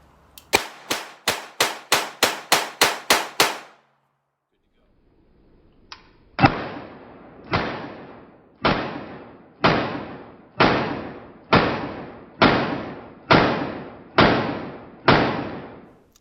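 A Smith and Wesson 617 ten-shot .22LR revolver fires a rapid string of about eight sharp cracks, then after a pause a slower, evenly spaced series of about ten louder, ringing shots.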